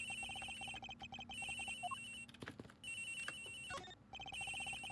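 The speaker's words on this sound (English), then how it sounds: "The ringing comes from here" Cell phone ringing in the video game Ace Attorney Investigations, a repeating electronic ringtone in steady bursts, interrupted briefly by sharp game sound effects, with no talk.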